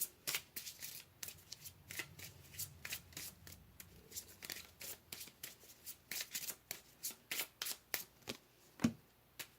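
Tarot cards shuffled by hand in a quiet room, a rapid series of crisp riffling flicks and papery slaps in uneven bursts, close and fairly soft, with no voices.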